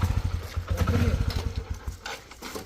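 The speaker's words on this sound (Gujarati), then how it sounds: "ઉતર બાઈક બંધ કર પેલા" A motorcycle engine idles close by with a steady, rapid low chugging throb that runs through most of the stretch and eases slightly toward the end, with no speech.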